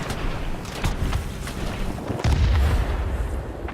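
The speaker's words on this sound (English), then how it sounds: "we got hit by flak" Flak bursts batter a Douglas A-26B Invader bomber in World of Warplanes, heavy booms and rumbling thuds over a constant engine drone, with a louder low impact about two-thirds through.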